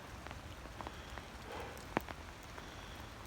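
Heavy rain falling on surfaces during a storm that floods pastures from an overflowing creek, a soft, steady patter with scattered sharper drops and one brief louder hit.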